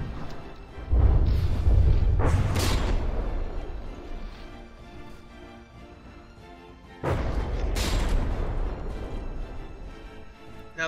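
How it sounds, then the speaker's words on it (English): Naval artillery booms in the game From the Depths as ships trade plunging fire at extreme range: two heavy, deep blasts arrive several seconds apart, each followed by a long rumbling decay. "Now the ships are at extreme range of bombarding one another. Those are some hella plunging fire shots there."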